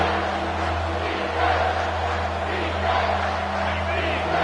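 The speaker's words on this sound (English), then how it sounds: "And here comes the noise. This crowd is trying to inspire this defense" Steady stadium crowd roar at an Ohio State football game, cheering on the defense, a dense wash of many voices with a low rumble, swelling slightly in the middle and holding loud throughout.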